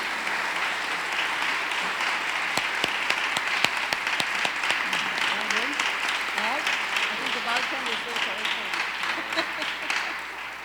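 An audience at a library collection unveiling applauds, scattered sharp claps building into steady clapping that slowly fades, with voices talking over it.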